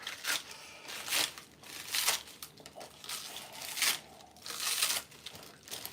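Scissors slice through rinsed salad greens in repeated crisp, crinkly cuts that come in uneven bursts about once a second. The sound is close and moderately quiet, with no talking.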